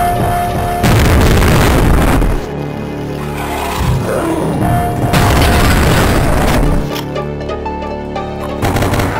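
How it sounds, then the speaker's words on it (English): Pipe bomb explosions in Duke Nukem 3D: loud, heavy booms and roaring blasts recur in bursts, each with a crackling rumble and short gaps of quieter game sound between. "as long as I got all these pipe bombs, I'll just blow myself up with them"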